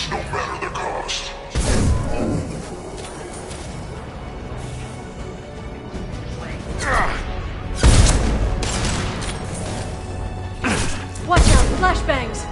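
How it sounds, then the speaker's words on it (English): Flashbang grenades exploding in Mass Effect, a few heavy thuds and crashing bursts spaced several seconds apart over a background of combat noise, with voices speaking during the fight. "Watch out, flashbangs!"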